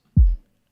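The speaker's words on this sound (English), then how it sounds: "So I do have two kick drums pre-made here." A single deep synthesized trap kick drum thump with a punchy attack and short booming low tail, heard alone.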